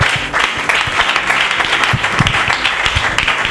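A church congregation applauds and cheers for the Lord, loud, dense clapping that fills the room continuously with a steady wash of crowd noise.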